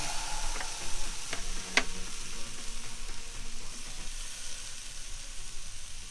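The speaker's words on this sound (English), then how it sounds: "I could just hear these steaks sizzling when I put them on that grill" Ribeye steaks sizzle steadily on a grill, a close, continuous frying hiss with a few faint clicks and crackles, and no talking over it.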